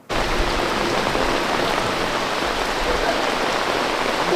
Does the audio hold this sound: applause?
no